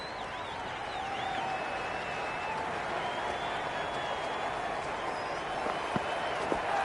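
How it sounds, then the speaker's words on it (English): A stadium crowd applauds and murmurs steadily at a cricket ground in the video game Cricket 26. The sound is a broad, even wash of noise with a few brief louder claps near the end. "The spectators are absolutely buzzing right now. Huge levels of excitement all around this ground."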